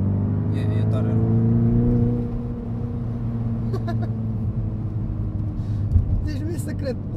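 Kia Pro Ceed GT with a 1.6 turbo engine accelerating, a low engine drone rising in pitch then settling, heard from inside the car with voices talking over it.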